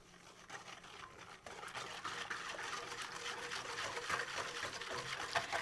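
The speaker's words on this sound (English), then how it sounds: "Now we're just going to whisk this" A whisk swishes and sloshes through buttermilk batter mix and water in a large bowl for fried chicken, a soft, continuous liquid churning that builds slightly, faint and close with no speech.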